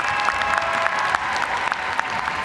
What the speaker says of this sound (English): Standing ovation from the crowd here in Wichita,